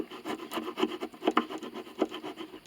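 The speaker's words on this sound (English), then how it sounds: "You can only saw a little bit at a time." Hand saw rasping in short strokes through the broken scroll of a red violin held by a clamp, producing a steady run of close, scratchy wood-cutting bursts with brief pauses.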